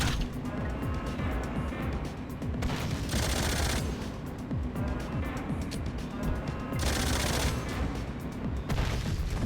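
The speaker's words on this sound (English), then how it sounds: "Grenades saved the day." Video game combat with grenade explosions amid continuous rattling gunfire, loud and dense throughout, with several heavier booming bursts standing out from the barrage.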